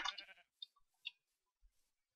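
Sheep bleating in the Minecraft video game: a short nasal bleat opens, then a few faint clicks and brief blips follow across near silence.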